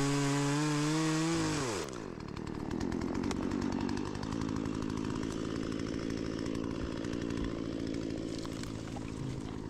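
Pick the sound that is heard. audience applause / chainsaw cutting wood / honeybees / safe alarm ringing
chainsaw cutting wood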